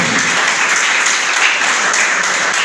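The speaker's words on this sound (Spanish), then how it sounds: "¿Cuánto le da un aplauso al Señor?" A church congregation applauds during a Spanish-language sermon, with loud, dense, continuous clapping that holds evenly from start to finish.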